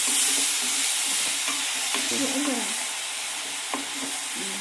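Onions being stirred as they fry in a pan for South Indian potato fry, a steady sizzle with intermittent scraping and clinking of the spoon against the pan, close and alone with no talk.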